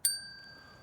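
A small handbell set down in a Warwickshire graveyard gives a single bright ding with a clear ringing tone that decays slowly over quiet outdoor background.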